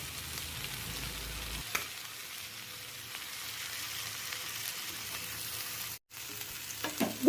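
Caramel garlic chicken frying with sugar on a low flame gives a faint, steady sizzle throughout, with a brief clink near the end, quiet and close.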